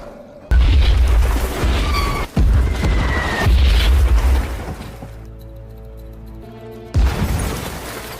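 A heavy, booming blast from a tank cannon in a World War II tank battle film, loud and sustained with a deep rumble, followed by a second sharp blast near the end as music swells underneath.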